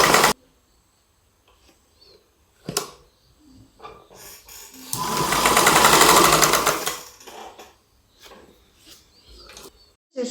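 A sewing machine stitches a small child's dress made from fabric, with one sustained burst of rapid whirring stitching in the middle, framed by shorter clicks and handling noises in a quiet room.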